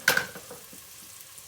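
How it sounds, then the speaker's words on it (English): A short burst of oil sizzling in a pan, loud at first then settling into a faint crackle. "So do you hear that sizzle?"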